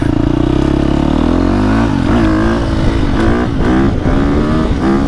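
A 2025 KTM 350 XC-F four-stroke dirt bike engine revs hard and close off-road, climbing in pitch, then blipping through several quick rises and drops, loud and continuous throughout.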